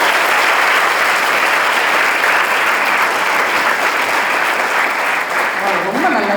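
Audience applause at a school speech event, a loud, dense and steady clapping that fills the whole stretch without a break.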